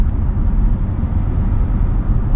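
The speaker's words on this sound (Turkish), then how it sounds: "Tabii ufaktan bir yine tekerlek dönme sesi bu elektrikli evet." Steady low road rumble of tyres rolling inside a Hyundai IONIQ 5 electric car cruising at 80 km/h, a continuous muffled drone with no engine note, fairly loud and unbroken.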